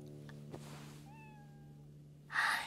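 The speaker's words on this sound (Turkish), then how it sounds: "Kedi miyavlaması duyuyorum." A single cat meows once, clear and fairly close, against a quiet background with a low steady hum, followed by a brief rustling burst.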